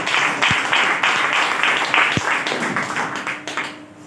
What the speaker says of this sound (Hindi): यीशु के लिए जोर से ताली बजाओ